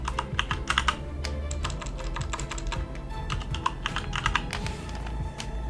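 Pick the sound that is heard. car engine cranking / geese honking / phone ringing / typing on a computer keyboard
typing on a computer keyboard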